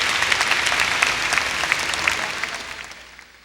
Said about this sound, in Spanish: Vamos a darle un aplauso al Señor en esta tarde.